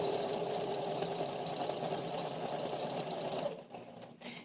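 A sewing machine stitches endless straight seams on facings, a fast continuous mechanical whirr that holds steady and close, then cuts out near the end leaving a couple of brief bursts.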